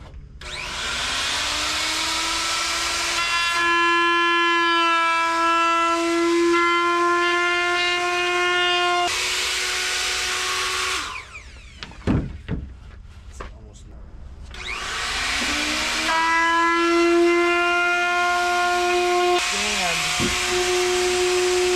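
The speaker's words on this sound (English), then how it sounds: "So we're just going to scuff it up, take off all the high points" A power sander scuffing fairing compound on a boat bulkhead, a loud, steady whirring whine in two long runs separated by a short pause filled with brief knocks and handling noises.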